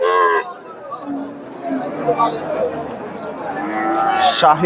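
A cow lets out a loud, drawn-out moo at the start, then the lowing fades under steady crowd chatter and hubbub at the busy Chandaikona cattle market, where Jersey-mix cows and calves are being sold.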